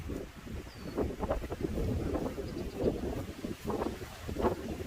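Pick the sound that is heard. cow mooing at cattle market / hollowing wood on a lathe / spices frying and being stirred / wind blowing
wind blowing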